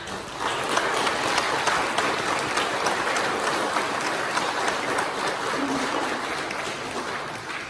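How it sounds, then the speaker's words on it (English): A church congregation at a confirmation service breaks into steady, sustained applause, a broad bright clatter of many hands clapping that holds at an even level throughout. "I think we can give them a round of applause."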